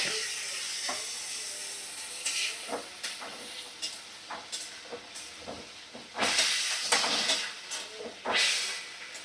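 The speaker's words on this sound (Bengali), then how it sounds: "এবার সামান্য একটু জল দিয়ে দেব।" Water splashed into a hot pan of egg and potato curry, a steady steamy hiss and sizzle that swells in louder surges, close and with no talking.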